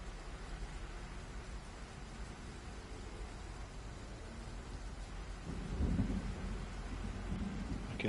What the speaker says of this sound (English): I can hear the storm.